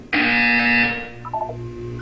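A harsh electronic buzzer from the Portal 2 video game, one loud sustained blare of under a second that cuts off abruptly, followed by a brief fainter chime.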